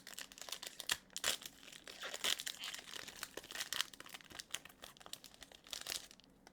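Foil wrappers of Magic: The Gathering Lost Caverns of Ixalan booster packs crinkling and tearing as they are opened, a close, busy run of sharp crackles and rustles, soft and intimate with no voice.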